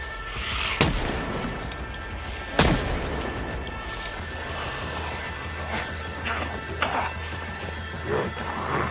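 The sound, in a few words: gunshots in video game Project Zomboid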